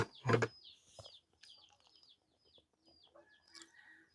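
A hen clucks and chirps softly at a rural home after laying an egg, a burst of noise at the start followed by scattered faint, high calls.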